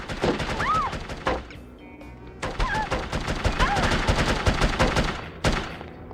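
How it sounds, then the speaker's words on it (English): Gunfire from The Operative: No One Lives Forever on PS2 comes as rapid, loud automatic bursts and single shots, with short pauses between volleys. "who is shooting at me?"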